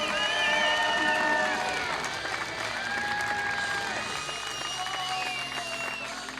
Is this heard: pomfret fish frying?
no